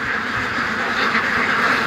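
Muscovy ducks quack loudly and close by in a continuous, overlapping stream of harsh calls, with no talking.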